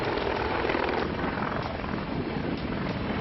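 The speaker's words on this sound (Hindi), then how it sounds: "ये है इंडियन एयरफोर्स का सबसे हाईटेक हेलीकॉप्टर अपाचे, जिसे उड़ता टैंक के नाम से भी जाना जाता है" An Indian Air Force Apache attack helicopter flies close by, its rotor thudding and turbine roaring in a loud, continuous wash of sound with no speech.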